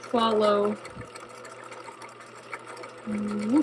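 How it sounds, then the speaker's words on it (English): A sewing machine stitching the bottom of a pants seam pocket shut, two short whirring bursts of stitching at the start and end with quiet pauses between, close and clear. "I'm just going to sew the bottom of my pocket shut"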